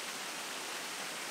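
Waterfall at Malham in the Yorkshire Dales, a steady broadband rush of falling water, close and even, with no voices.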